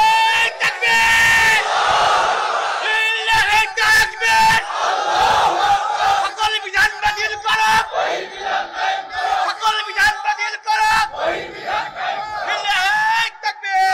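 Large rally crowd shouting a takbir slogan in rhythmic call-and-response, loud massed voices rising and falling in bursts with sharp yells throughout.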